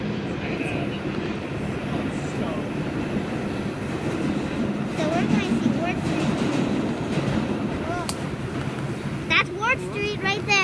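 A New York subway train on the 6 line roars past overhead on elevated track, a loud, continuous rumble with screeching wheel squeals toward the end, and people talk over it.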